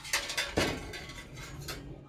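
A spoon serves food onto plates for three people at home, with a few light clinks and scrapes of metal against dishware, close and brief, no talking.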